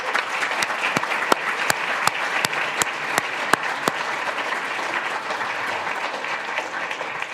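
An audience applauds steadily to welcome Sadhguru and Erica Peng on stage at an opening session, a dense crowd clapping that holds through and fades slightly at the end, with a few sharp louder claps near the start.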